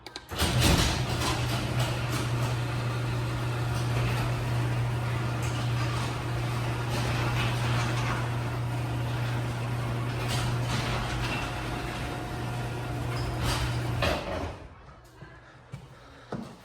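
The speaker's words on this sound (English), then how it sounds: "I'll close that door and open the other one." A LiftMaster 8355W opener drives a Clopay garage door closed, a steady close motor hum with rattling panel clatter lasting about fourteen seconds, then stopping abruptly, leaving quiet room tone.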